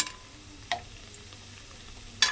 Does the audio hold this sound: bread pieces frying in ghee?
yes